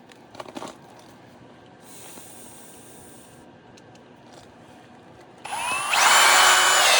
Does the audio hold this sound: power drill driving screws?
yes